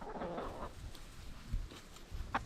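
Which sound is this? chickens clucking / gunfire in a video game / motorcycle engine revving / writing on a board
chickens clucking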